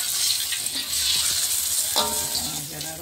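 Banana fritters frying in oil over medium heat, a steady dense sizzle throughout with a brief clatter of stirring or lifting near the end.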